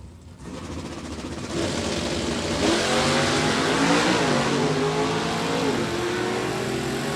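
Stock-class drag race cars, including Johnny Dekema's Corvette, roar steadily at full throttle side by side, a loud sustained engine drone that swells after a brief quieter start and stays dense to the end.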